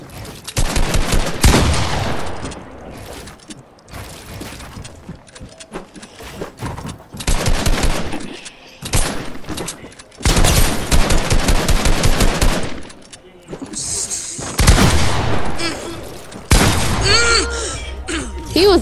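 Assault rifle fire in Fortnite comes in repeated sharp bursts and single cracks, loud and close, with gaps between volleys and voices talking underneath.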